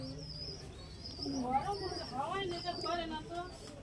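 Pigeons coo softly in a Najra pigeon loft, low warbling calls rising and falling over a few seconds while someone talks over them.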